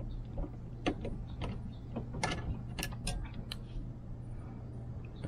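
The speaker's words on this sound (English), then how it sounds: "let's take this little Phillips head out from the top" A small Phillips head screw is backed out of a car seatbelt anchor, with a series of sharp ratcheting clicks and light metallic ticks from the screwdriver at close range, irregular in rhythm, with no talking.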